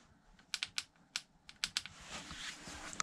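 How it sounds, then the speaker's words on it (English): Worn jockey wheels on a Cube hybrid e-bike's derailleur give off a series of sharp, light clicks in an irregular rhythm. They are close but quiet, with a soft rushing noise building toward the end. "So, could that be our mystery clicking noise? Both jockey wheels are knackered."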